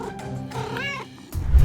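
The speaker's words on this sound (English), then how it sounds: "Look at this cute kitten instead." A kitten lets out a clear, rising meow, close and alone, followed by a rustling bump of handling noise.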